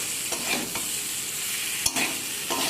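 Boiled potatoes and spices are stirred in a pan, a steady close sizzle with repeated scraping strokes of a spoon and a sharper knock partway through.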